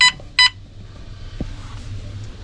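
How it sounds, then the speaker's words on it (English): A propane gas detector inside a converted school bus sounds its alarm during a test: two loud, sharp electronic beeps in quick succession, then quiet room noise with a faint knock. "let's test this one and see if we can get it to alarm."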